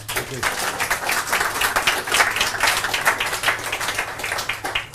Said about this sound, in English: I think we give a big applause to the participants